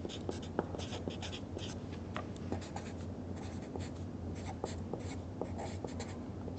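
Pen or marker writing an equation by hand, a steady soft scratching with small taps at close range, low and continuous with no voices, in a chemistry lesson on reaction rates.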